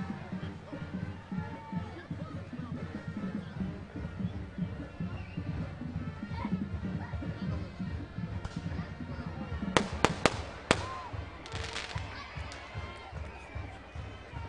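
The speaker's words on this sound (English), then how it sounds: "Fireworks show going off down here." Fireworks go off at a high school football game. A quick cluster of sharp bangs comes near the end over a constant murmur of crowd noise.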